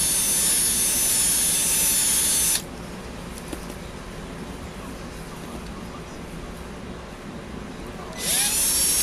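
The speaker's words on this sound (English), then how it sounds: "So I start out with the 3/16 drill bit" A 3/16 drill bit bores into the post of a die-cast metal model car casting, a 1970 Monte Carlo SS. A loud, high, steady whine runs for about two and a half seconds, then near-silence, then a short second burst of drilling.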